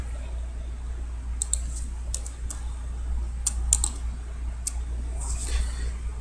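Keys are tapped on a computer keyboard while a customer's name goes into an online order form: light, irregular clicks in short bursts over a steady low hum.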